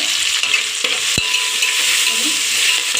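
Chilies and cumin seeds fry in a pan with a bright, steady sizzle, punctuated by a single sharp knock and faint stirring; no talk is heard.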